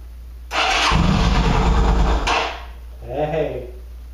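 A Qlink QBK 250 Adventure motorcycle, left sitting unused, cranks briefly and then fires up without choke, settling into a loud, close rumble that drops after a couple of seconds before a short revving burst.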